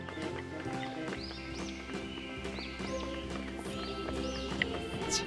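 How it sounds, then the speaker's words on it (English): Horse neighs and clip-clopping hooves sound over a busy musical backdrop, with high whinny-like sweeps recurring throughout. "H for horse."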